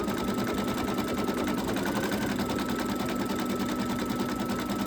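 An embroidery machine stitches a flip-flop design for a potholder, a steady, dense mechanical whir with rapid needle rhythm running continuously and close throughout, with no talking.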